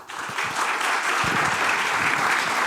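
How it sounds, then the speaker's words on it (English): Audience applause at a talk event, dense sustained clapping from a crowd that starts sharply and holds steady and loud for the whole stretch. "Please, a round of applause for Justine Tjallinks."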